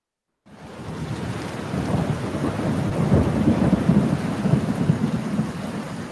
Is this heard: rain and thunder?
yes